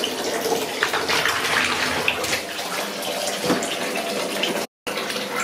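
Bath filling from the tap, a steady loud rush of running water that continues with only a brief cut, with no voices over it.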